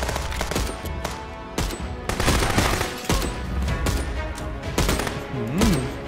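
Rapid, loud gunfire from the video game Contraband Police, with repeated shots from a rifle in dense bursts along with game mechanical clatter. No voice is heard.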